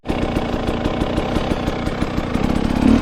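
A dirt bike engine idles steadily just after a hill climb, a loud, close, continuous throbbing with fast regular pulses and no one speaking.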